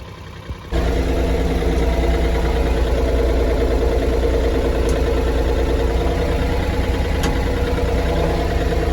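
A Japanese mini tractor engine runs steadily at close range, loud and constant with a droning vibration, after it starts abruptly within the first second; the tractor is out in a potato field ready for ploughing.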